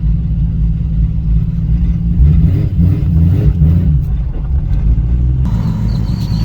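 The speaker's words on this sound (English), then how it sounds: "Freaking weird seeing my car being driven away by somebody else" A 2JZ-swapped Nissan S14's engine rumbles and revs up close as the car pulls off, a loud steady drone with rising throttle and no voices.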